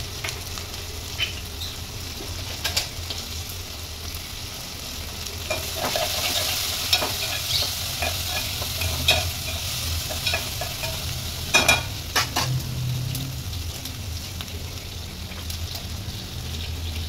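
Cinnamon, clove, cumin and mustard seeds tempering in hot oil, a steady low sizzle with scattered crackles and pops, plus occasional stirring scrapes close by, with no talking.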